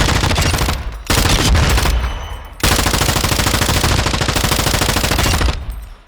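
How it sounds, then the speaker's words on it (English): A Cronin Mini Pro with incendiary ammo and a 16-inch barrel fires in Call of Duty DMZ, loud rapid automatic bursts in long sustained strings, broken by two short pauses, close and dominant. "I have incendiary ammo, F-Tac Ripper 56, Costava DX90, Romeo 16-inch barrel on the Cronin Mini Pro, and I mean this thing's a monster."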